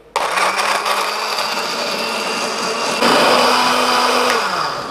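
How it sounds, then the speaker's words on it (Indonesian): Electric blender whirring loudly as it purees chili sambal, starting abruptly, holding a steady high whine, then rising in pitch midway before easing slightly at the end. "Langsung aja kita blender."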